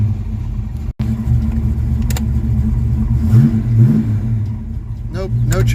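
A Ford Mustang engine fires up and revs, with a brief dropout just before the start, then a steady loud running rumble and throttle blips near the end.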